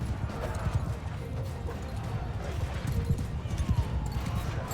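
Horse hooves clatter in the medieval combat game Mount & Blade II Bannerlord, a rapid, uneven clip-clop of several galloping mounts amid battle noise, fairly close and continuous.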